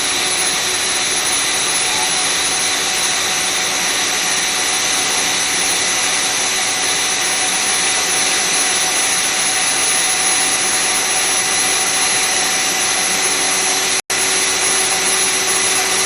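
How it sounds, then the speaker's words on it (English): A Moore No. 3 manual jig grinder runs steadily in a machine shop, grinding a low-profile sine plate, with a loud, constant high-pitched whine and hum that holds throughout apart from one very brief dropout near the end. "Number 3s, those are a real nice manual jig grinder."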